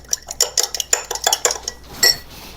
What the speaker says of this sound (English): Mix all that up, especially the syrup.